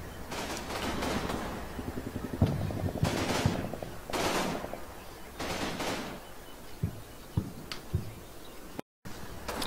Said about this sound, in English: Mortars are shooting again.